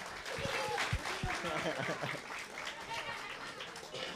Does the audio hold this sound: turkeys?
no